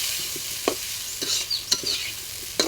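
Vegetable bhaji being stirred in a frying pan in a home kitchen, with a soft steady sizzle and several sharp spatula scrapes and clinks against the pan.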